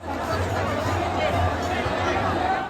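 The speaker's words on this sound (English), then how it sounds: "You can see the crowd behind me." Crowd of protesters gathered at Jantar Mantar in Delhi at night, a steady dense murmur of many voices with indistinct chatter, continuous and fairly loud throughout.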